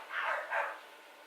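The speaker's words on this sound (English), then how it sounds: "don't mind my dogs, because evidently they want to go outside and play" Two short dog barks in quick succession indoors, moderately loud and a little muffled, as dogs wanting to go outside to play.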